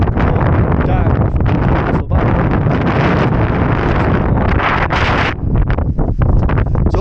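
Strong wind buffets the microphone on a hillside hike on Fan Fawr in the Brecon Beacons, a loud constant roar with gusts that never lets up for the whole stretch.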